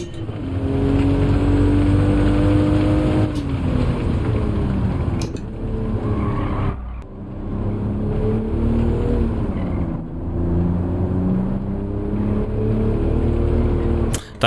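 A Toyota Supra race car in Gran Turismo 7 drives with a continuous loud engine drone, its pitch rising and falling through gear changes and corners, with brief dips between shifts and no talk over it.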